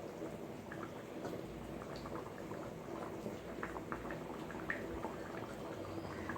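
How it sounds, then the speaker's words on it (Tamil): Homestyle fish curry bubbles in an uncovered pot, a quiet, steady simmer of small popping bubbles and gentle liquid gurgles with no voices. "மூடி போடாம மீனை வேக வைங்க."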